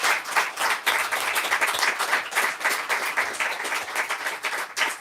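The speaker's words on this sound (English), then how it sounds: "I think we should all clap for Diamond" An audience at a talk claps for Diamond Sharp in dense, sustained applause that stays loud and close throughout, with no voices over it.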